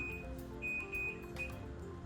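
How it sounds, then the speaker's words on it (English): A kitchen timer goes off during the simmering of an etouffee with pork and chicken, giving several short, faint electronic beeps in an uneven pattern over a low background hum. "There's our timer."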